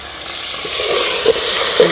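Ginger and garlic sizzle in hot oil in a village kitchen, a short bright hiss with a couple of small pops, close and fairly loud.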